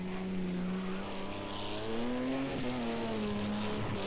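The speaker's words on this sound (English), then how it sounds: "here we got one lap with the Audi" An Audi race car runs a lap in a Le Mans racing game, its engine holding a steady droning note that rises and dips slightly through gear and speed changes, continuous and without voices.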